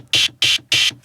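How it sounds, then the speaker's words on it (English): Three short synthesized hi-hat hits from a Studiologic Sledge synthesizer patch, bright noisy bursts evenly spaced with brief gaps of silence between them, fairly loud and alone. "it's sounding a little bit more like some hi-hats already"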